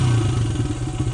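A 1997 Honda XR100 motorcycle with a freshly cleaned carburetor pilot jet idles steadily up close, a loud, even single-cylinder putter with a little mechanical clatter.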